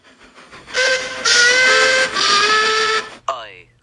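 A steam engine from the animated Sodor railway series sounds its whistle: a bright, sustained harmonic whistle lasting about two and a half seconds, then a brief falling squeal that trails off.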